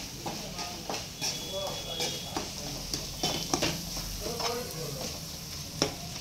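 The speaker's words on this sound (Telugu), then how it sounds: "ఇప్పుడు ఇవన్నీ కొద్దిగా బాగా కలిపేద్దాం" A spoon stirs a spiced fish curry mixture in a pan, giving repeated scraping strokes and bright clinks over a low sizzle. A voice speaks at times alongside the stirring.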